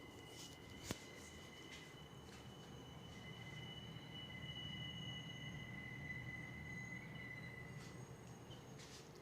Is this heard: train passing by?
yes